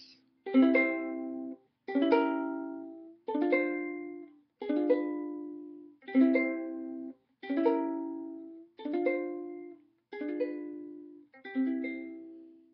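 A ukulele strums a progression of nine chords, including diminished chords, at a steady, even pace, each short and bright with brief gaps between, no voices present.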